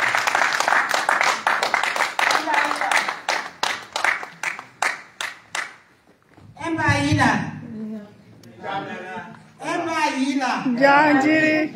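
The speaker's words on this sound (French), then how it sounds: "je vous demande d'applaudir très fort Régine Mathieu, s'il vous plaît" Clapping from an audience at the first edition of the RU Sawaland event rises loud and then thins out over about six seconds, leaving scattered claps before voices take over and talk continues.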